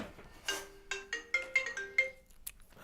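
A phone ringtone plays a short, bright melody of several quick chiming notes in an uneven rhythm over about two seconds. It is close and clear with no voices.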